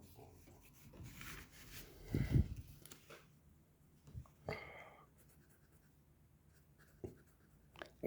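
A teacher writes on a board during a business mathematics lesson, with scratchy strokes in short bursts, one louder stretch in the middle, and soft pauses between them. No one speaks.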